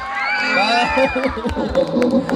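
Wedding guests cheer and whoop together for the couple, a loud, close burst of crowd voices with high shouts over clapping-like bangs.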